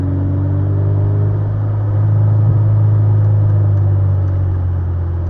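Car fitted with a new FRZR exhaust, cruising with a loud, steady low engine drone and rumble that rises slightly in pitch and strength through a gear shift.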